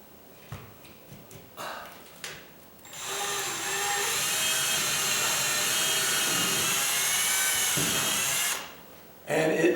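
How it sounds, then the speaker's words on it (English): An electric drill whines steadily for about six seconds as it bores into a ceiling while a fan is installed, loud and close, starting and stopping abruptly with brief handling noises around it. "so I'm going to drill this"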